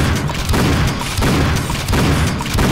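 Shotgun blasts from the video game Painkiller Black fire in a steady rhythm, about one heavy boom every 0.7 seconds, loud and close with reverberant tails and no talk.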